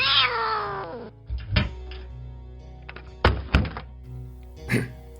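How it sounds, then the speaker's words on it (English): Cats meowing: a long, loud wavering yowl opens, followed by three sharp thumps spaced a second or two apart, each with a brief cry, close and with no talking. "Cats."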